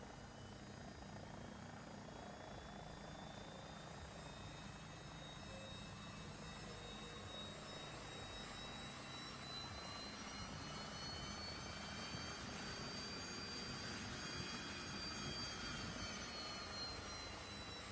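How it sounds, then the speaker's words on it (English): A helicopter engine in the DCS flight simulator spools up, a steady broad turbine roar with rising whines that climb in pitch over about eighteen seconds, continuous and unbroken with no voices. "So let's start up engine number 1."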